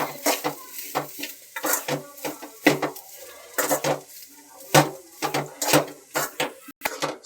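A utensil scrapes and clanks against a pan as chili powder, salt, garam masala and coriander powder are stirred into homemade fried rice, giving rapid, close metallic strokes in an uneven rhythm with a faint sizzle beneath.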